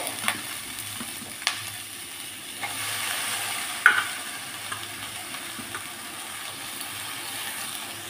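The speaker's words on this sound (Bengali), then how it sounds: "আমি একটু নেড়ে নিয়েছি যেটা ফুল আর আলুকে।" Cauliflower and potato sizzle steadily in a hot pan while a utensil stirs and scrapes, with a few small clicks, no talking.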